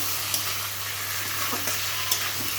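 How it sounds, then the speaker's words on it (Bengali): A spoon stirs fish curry with potatoes, salt and turmeric in a hot pan, a continuous hissing sizzle broken by a few soft scraping knocks, with a faint steady hum underneath and no talk. "এবার ভালোভাবে কিন্তু আমি নেড়ে চেড়ে নিচ্ছি।"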